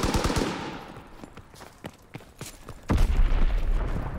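Gunfire and enemy bomb explosions from the Call of Duty WW2 video game: rapid shots crack at first, scattered shots follow, then a heavy, rumbling blast rolls in near the end.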